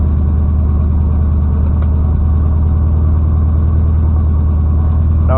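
Carbureted V8 in a 1979 Chevy K10 with a Quadrajet carburetor idling steadily, a loud, close, pulsing low rumble with a regular lope throughout and no other sounds.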